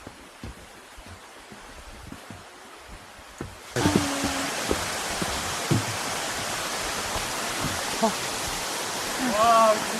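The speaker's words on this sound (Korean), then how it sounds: "완전 폭포다." Waterfall in the Heullimgol valley of Seoraksan mountain, a loud, steady broadband rush that swells in suddenly partway through and then holds, with brief exclamations of voices over it near the end.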